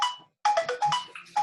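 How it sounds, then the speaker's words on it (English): A phone ringtone plays during an online group call, a clear repeating electronic melody of short bright tones with a brief gap, loud and alone with no talk over it. "I just hear a phone ringing or something."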